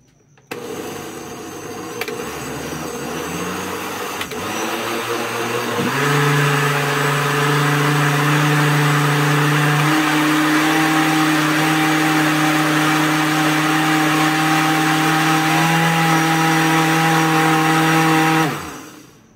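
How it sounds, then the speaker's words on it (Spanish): A blender whirs through cheesecake batter of cream cheese, eggs and vanilla. It starts low, then rises to a loud, steady motor drone that holds for about twelve seconds before cutting off. "Ahora sí, vamos a licuar con una cucharadita de vainilla y es todo."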